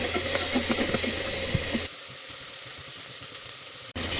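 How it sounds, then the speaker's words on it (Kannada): Tomato and onion frying in a pan give a steady, close hiss and sizzle that drops sharply in loudness partway through, then stays lower until a brief gap near the end. "ಟೊಮೊಟೊ ಹಾಕ್ತಾಯಿದ್ದೀನಿ ಟೊಮೊಟೊನ ಚೆನ್ನಾಗಿ ಫ್ರೈ ಮಾಡ್ಕೊಂಬಿಡ್ತೀನಿ"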